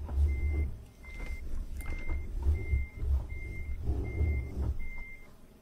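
Reversing beeps from a truck in Euro Truck Simulator 2 multiplayer: seven evenly spaced, steady beeps over a low engine rumble, clear and moderately loud.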